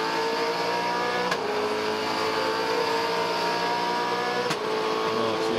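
A V8 Supercar race car engine roars at the Gold Coast circuit, a loud sustained drone with two brief sharp shifts in pitch as the throttle eases, heard alone without talk.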